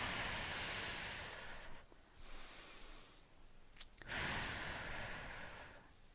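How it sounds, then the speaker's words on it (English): Deep breaths drawn in and pushed out during a low-impact resistance training workout, with long loud airy inhales and exhales alternating close to the microphone and short quiet gaps between them. "So we're going to inhale, exhale, inhale,"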